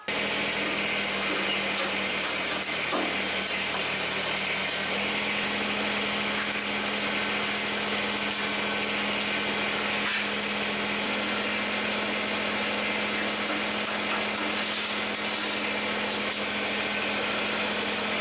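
Subcompact tractor running steadily outdoors while lifting a new King Kutter three-point tiller, a continuous close engine drone with a constant hum throughout, no talking.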